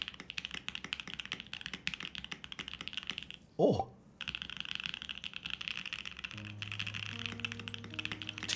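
Steady clicking keystrokes on a Think 6.5 mechanical keyboard, close and continuous, briefly interrupted by a short exclamation before typing resumes.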